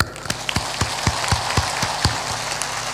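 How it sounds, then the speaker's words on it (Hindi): A crowd of devotees at a religious discourse claps with hands raised overhead, sharp irregular claps over a steady roomy wash, loud and close, with no speech. "ऊपर ऊपर ताली बजा दो"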